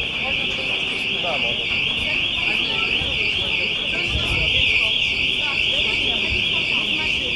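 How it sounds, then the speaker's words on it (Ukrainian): A loud, continuous high-pitched fire alarm blares steadily throughout in a shopping centre during an evacuation, with indistinct crowd noise and murmuring underneath. "Сигналізація спрацьовує і вже за мить починається евакуація."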